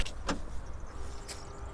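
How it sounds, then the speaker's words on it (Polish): A 2022 Peugeot 308's keyless entry unlocks: locks click and mechanisms whir briefly, with a couple of short chirps, heard close by in a quiet setting. "i samochód się otwiera"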